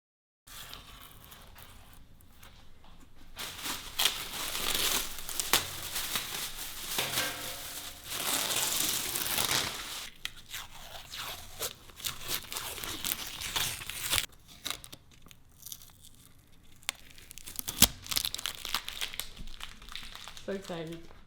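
Masking tape peeling off wheels that have been wrapped gloss black, heard as bursts of crinkling, tearing tape, close and fairly loud, with faint speech in places.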